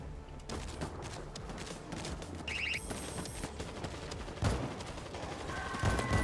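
Sustained rapid gunfire in World War Z: Aftermath, dense overlapping bursts of automatic fire at steady loudness, with a few sharper louder shots near the end, no talk.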